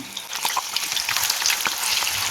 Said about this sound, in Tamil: இப்போ இதே போல் மீதி இருக்கிறதையும் நம்ம பொறிச்சு எடுத்துக்கலாம்